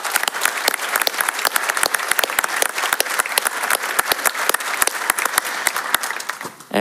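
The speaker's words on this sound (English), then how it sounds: "I think we all owe him a big round of applause for all the work he's done here this week" Applause from a convention audience at the Montreal Wood Convention honoring the chairman, with dense, steady clapping from many hands that stays strong through the whole stretch and swells briefly at the end.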